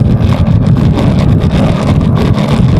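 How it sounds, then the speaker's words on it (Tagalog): Steady wind roars against the microphone during a bicycle ride into a strong headwind, a constant low buffeting rush with no voices. "Iba kasi yung hangin ngayon na headwind."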